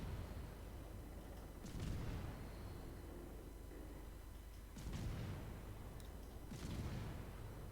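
Cannon shells firing in a tank video game, three heavy booming shots spaced a few seconds apart over a constant rumbling engine drone.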